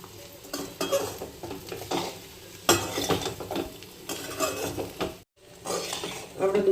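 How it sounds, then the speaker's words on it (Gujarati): Bottle gourd muthiya are mixed in a pot, with irregular bursts of stirring, scraping and metallic clinks from a spoon against the vessel, close by and uneven in loudness, with one short gap and no voices. "આ રીતે મિક્સ કરી લેવાનું છે."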